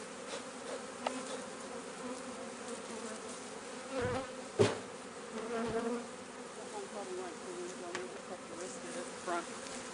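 Honey bees swarm around Langstroth hive frames during a honey harvest, a steady dense buzz throughout with a few louder passes close by.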